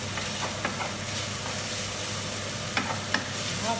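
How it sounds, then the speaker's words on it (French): Lardons and onions fry in a skillet for a creamy mushroom risotto while being stirred to lift the browned bits. Soft continuous sizzle with a few sharp utensil scrapes and clicks against the pan. "Je continue de remuer en décollant bien les sucs de la poêle jusqu'à ce que mes lardons et mes oignons soient colorés."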